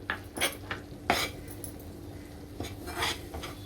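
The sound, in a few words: roasting flour in butter in a pan on low gas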